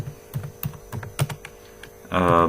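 Typing on a computer keyboard while programming in Turbo Pascal, a series of distinct close clacks in an uneven rhythm over a steady mains hum, followed by a brief burst of a voice at the end.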